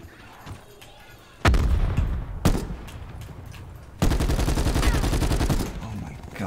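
Automatic gunfire from Call of Duty Black Ops 4 Blackout: loud, close bursts that cut in sharply and keep up rapid, rattling volleys, with a short pause between strings of shots.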